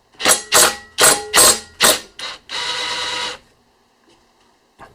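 A ratchet wrench with a 5/8 socket loosening the blade bolt on a lawn mower, heard as a few quick close ratcheting bursts followed by a longer steady clicking whir, then near silence.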